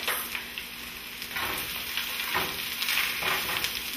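Garlic frying in a hot pan for vegan fajitas gives a steady crackling sizzle with occasional stirring scrapes, fairly close and unbroken, with no talking.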